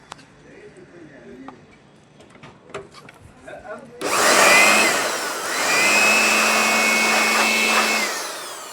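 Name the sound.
air blower blowing out a Kyocera copier toner tank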